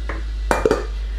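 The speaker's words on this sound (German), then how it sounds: "Ich muss die Suppe umrühren." A spoon knocks against a soup pot during stirring, a few quick metallic clinks and scrapes close by over a low steady hum.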